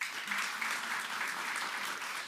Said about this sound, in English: a big round of applause to Cindy